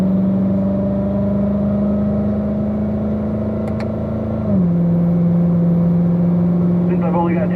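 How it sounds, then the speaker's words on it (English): Race car on a track engine droning steadily at high revs, then the pitch drops sharply as it shifts up a gear, the note settling lower and continuing under a voice on the radio. "Rob up to fourth gear, Barry up to fifth."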